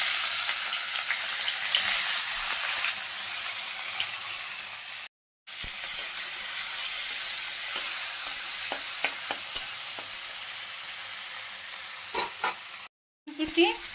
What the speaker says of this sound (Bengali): এখন পেঁয়াজটাকে ভেজে নেব।